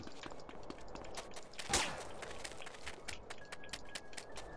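Rapid gunfire in a video game crackles as a steady stream of sharp, fairly faint shots from several directions, with one louder close burst near the middle.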